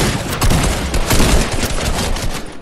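Rapid bursts of gunfire in Fortnite, loud and close, with dense overlapping shots and booming low-end impacts filling the whole stretch.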